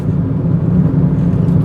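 Steady low engine rumble from a Proton Satria on the move, close and continuous from the cabin with no gaps or talk.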